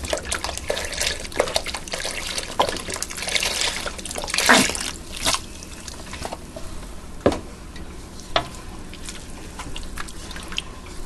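Four cups of beef stock pour into a pot with a steady liquid splashing and trickling, a few louder sloshes and drips punctuating the flow in a home kitchen.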